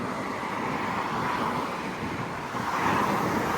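Strong seaside wind roars across the microphone in a steady, broadband rush on the beach at Güzelbahçe, İzmir, with a faint wash of surf beneath and no voices.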